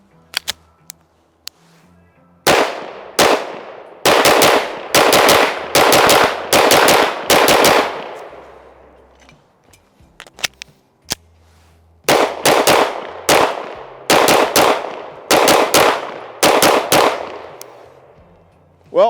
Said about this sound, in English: first round's down range with the Staccato P